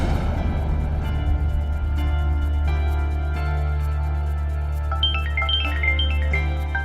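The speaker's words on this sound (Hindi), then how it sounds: "मम्मी का फोन।" A phone ringtone plays a bright melodic tune over a steady low hum, the chiming notes growing clearer toward the end.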